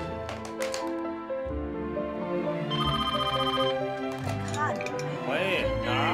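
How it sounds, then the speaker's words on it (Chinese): A telephone rings in a TV station mailroom, a loud repeating electronic bell in rapid bursts, heard close up over a busy background of voices and clatter. "收发室的电话都给打爆了"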